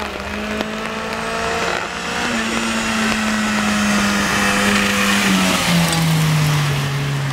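Rally cars racing at the 2008 Ridala folk sprint rally in Estonia, engines holding a steady loud drone that slowly falls in pitch as a car passes, with crowd noise in the background.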